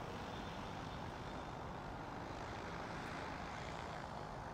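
A Talos T60X model airplane accelerates along a short runway, its engine giving a steady, even roar that holds without a break and has no voices over it.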